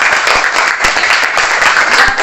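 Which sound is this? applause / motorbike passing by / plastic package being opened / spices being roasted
applause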